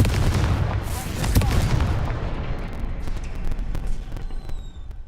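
Confringo fire spell exploding in the video game Hogwarts Legacy: a loud, booming blast with rumbling low end that decays into crackling and scattered sharp pops over several seconds.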